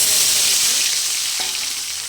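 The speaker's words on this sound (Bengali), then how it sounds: "এবার ওই তেলের মধ্যে দিয়ে দেবো পেঁয়াজ কুচি" Chopped onions crackle and sizzle loudly in hot oil for a fish curry, a dense continuous frying hiss with light stirring, no voices.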